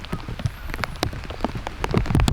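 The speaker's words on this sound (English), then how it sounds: "Cameras are out now. It's coming. Rain's coming down." Rain falls on a disc golf course, with dense, close drops pattering and tapping sharply on nearby surfaces in an uneven rhythm that grows a little heavier toward the end, with no voices.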